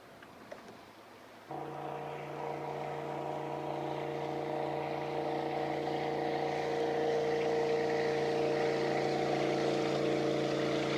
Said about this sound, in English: I've counted about 200 boats go by me since then